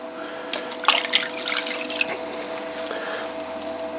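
Water splashed and dribbled onto wet clay spinning on a pottery wheel in a potter's workshop, giving close, irregular trickling and dripping sounds over a steady hum, with no talking.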